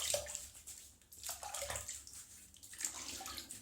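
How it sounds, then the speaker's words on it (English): A 1968 Gillette Slim safety razor being rinsed in water between wet-shaving passes, with close, intermittent splashing and sloshing in several short bursts. "we'll have a little bit of a rinse off and we'll do the second pass"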